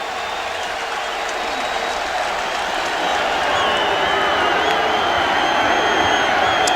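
Opposing fans at Ole Miss roar continuously during a 2007 college football game against Florida, a dense, loud stadium crowd swelling gradually louder, with no talk over it.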